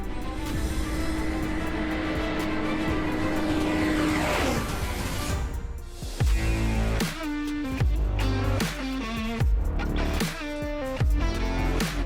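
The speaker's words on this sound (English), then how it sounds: "An ultralight aircraft that looks like a fighter jet, flies insanely fast, and can be flown with minimal training." Shark ultralight aircraft engine runs as a loud, steady drone that rises into a whining sweep near the four-second mark, then gives way to punchy rhythmic music.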